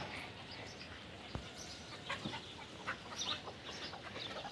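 Native chickens cluck and squabble outdoors as they fight, with scattered sharp calls and a brief thump over a low, steady background in a natural farmyard setting.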